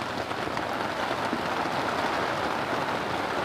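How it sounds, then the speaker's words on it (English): Heavy rain falls and drips steadily outdoors, including water running off a line, making a dense, even patter that holds constant throughout with no voices. "I ain't going out in this fucking rain, mate."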